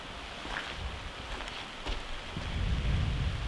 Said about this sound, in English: And just in time, it's starting to rain.